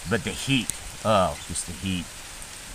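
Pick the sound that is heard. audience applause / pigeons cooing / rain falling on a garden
rain falling on a garden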